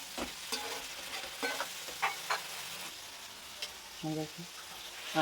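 Tomatoes and green chillies fry in a pan for a home-style fish curry, with a steady soft sizzle broken by several short scraping stirs of a spoon against the pan, close and moderately loud with no talking.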